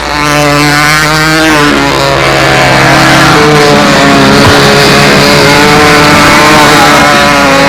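Model airplane engine at a control-line contest, fitted with electronic throttle control and running on nitrous oxide, buzzing loudly and continuously close by as the throttle opens and the pitch steps upward.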